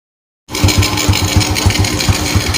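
Motorcycle engine idling right after a CDI ground wire fix, a close, loud steady running note with a regular low pulsing beat that starts abruptly after a moment of silence.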